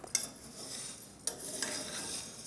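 Wild rice with water and olive oil being stirred in a pot: two sharp scraping clinks of a utensil against the pot over a quiet, steady background hiss.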